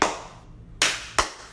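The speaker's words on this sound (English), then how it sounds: "we forgot to clap in the beginning, so can we clap now?" A few people on a podcast clap together in three separate bursts, close and sharp, with short gaps of quiet between them.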